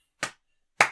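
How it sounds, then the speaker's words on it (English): Two sharp, separate hand claps about half a second apart, close and fairly quiet, in a deliberately slow rhythm with silence between them. "Slow clap, yeah."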